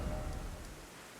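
Steady broadband rain hiss in the fantasy video game Elden Ring, a continuous even wash of falling rain with no talk over it.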